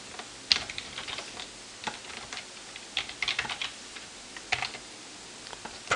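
Someone types on a computer keyboard while entering Erlang code, producing irregular clusters of close, crisp key clicks with brief pauses between bursts and no speech.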